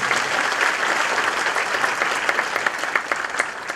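Dense audience applause from a lecture crowd fills the whole stretch, steady and loud with sharp individual claps standing out toward the end.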